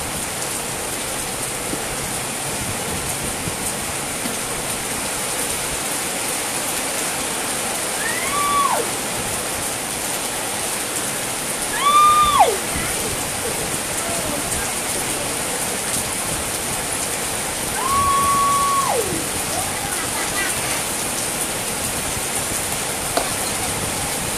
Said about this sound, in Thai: ฝนเท ลงมา เทลงมาเทลงมา